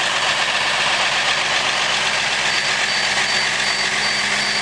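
A 1993 bus with a 360 diesel engine idles on a very cold day just after starting, a loud, even, rough rumble with a faint knocking pulse that holds steady throughout, close and alone.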